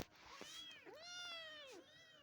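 A cat gives two drawn-out, rising-and-falling meows in close succession, clear and near, with a short break between them.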